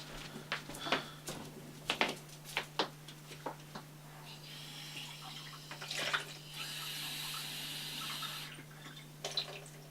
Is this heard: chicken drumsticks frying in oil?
no